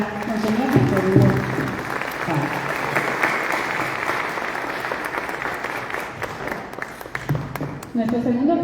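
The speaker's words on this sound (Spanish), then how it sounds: "Fuertes aplausos para Monseñor Víctor Hugo." Loud, sustained audience applause fills a forum hall as a guest is welcomed to the front, steady throughout, with brief voices heard at the start and again near the end.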